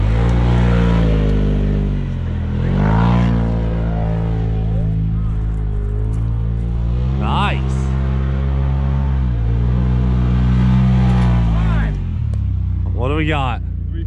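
Can-Am X3 Turbo RR side-by-side engine held loud and close, droning and revving in long sustained pulls with rising and falling pitch, while people talk over it.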